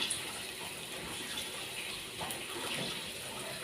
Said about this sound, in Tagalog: ibasan ko po yung aking kangkong na binabad sa asin